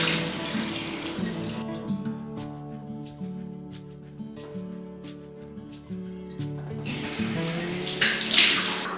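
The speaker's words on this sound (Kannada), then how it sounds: "ಈಗ ನಾನು ಜಸ್ಟ್ ಫೇಸ್ ವಾಶ್ ಮಾಡ್ತಾ ಇದ್ದೇನೆ." Tap water running into a sink while a face is washed, a hissing stream at the start and end with quieter splashes and dripping taps in between, close by.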